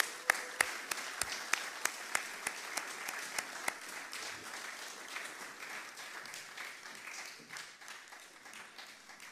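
An audience at a Ghana Grid Company (Gridco) event applauds to welcome a speaker, starting with several sharp individual claps that swell into steady, dense clapping from a crowd, no talking.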